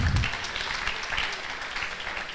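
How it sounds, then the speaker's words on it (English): Audience applause for the chairperson at a valedictory programme in Nigeria honouring a professor, a soft, diffuse wash of clapping heard from a distance in a large hall, steady and fairly faint. "A round of applause for our chairperson."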